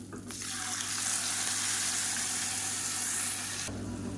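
Ground chutney hitting a pan of hot oil tempered with crackling mustard seeds and curry leaves, giving a loud, continuous close sizzle that holds for several seconds before cutting off abruptly.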